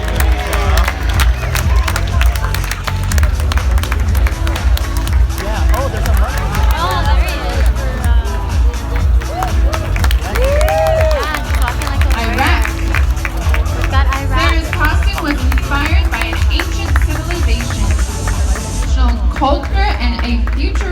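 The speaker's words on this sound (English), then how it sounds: "Give a round of applause for this costume with a cause" A live pageant crowd at Planet Hollywood Las Vegas claps and cheers for a contestant's national costume, a dense roar lasting the whole stretch under an announcer's amplified voice and music.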